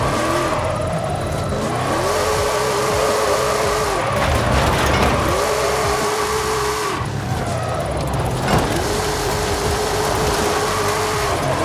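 Ford F-450 truck engine drifting in Forza Horizon 5, loud, sustained revving that repeatedly climbs and drops in pitch through gear shifts, with tire and engine roar throughout.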